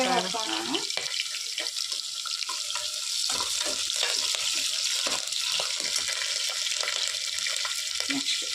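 Peanuts and chana dal frying in oil for lemon rice crackle in a thick, constant sizzle, with a brief voice audible at the very start.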